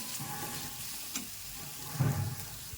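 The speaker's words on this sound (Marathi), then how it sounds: "अद्रक लसणचं पेस्ट भाजत राहायचं" Ginger garlic paste fries in a pan with a soft, continuous sizzle and faint crackles, quiet and steady with no one talking.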